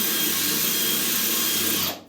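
Power drill boring overhead into porcelain bathroom wall tile with a wetted bit, a steady high grinding whine held close and loud for about two seconds before cutting off abruptly.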